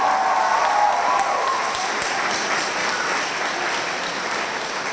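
A festival gala concert audience claps loudly and continuously after a congratulation, a dense wash of applause that fades slightly toward the end.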